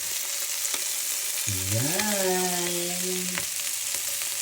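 Chicken wings frying without oil in their own rendered fat, giving a steady bright sizzle throughout. A voice briefly speaks midway.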